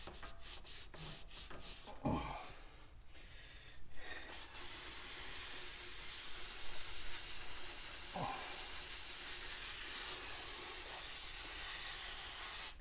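Brake cleaner sprays from an aerosol can onto a dump truck wheel hub during oil seal work, a long steady loud hiss running from about four seconds to the end, preceded by short bursts and clanks.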